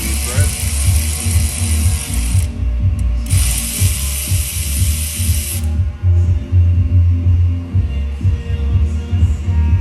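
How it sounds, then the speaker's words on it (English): A ratchet wrench cleans up the threads of a stud after broken stud removal, giving steady, close mechanical clicking that runs without a break over a low hum. "I'm using a ratchet because my elbow's bad"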